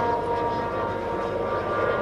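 Propeller airplane flying past at an airfield festival in Gruibingen, a steady, loud engine drone filling the whole moment without break or change.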